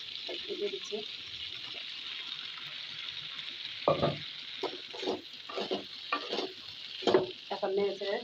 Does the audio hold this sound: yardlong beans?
yes